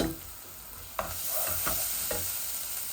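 Taro stolons and corms being stirred in a frying pan with onion and garlic greens, a steady close sizzle broken by several sharp scraping stirs, with no talking.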